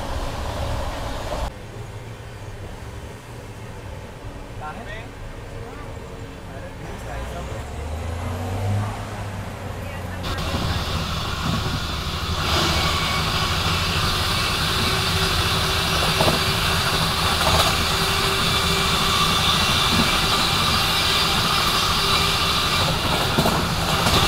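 Interior rumble of the 22946 Saurashtra Mail passenger train running at night, a steady loud roar that builds and brightens halfway through, with a crowded unreserved coach and voices talking under the noise.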